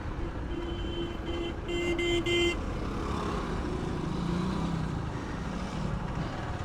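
Road traffic stuck in a sudden jam, with a few short car horn toots near the start over a steady rumble of idling and crawling vehicles.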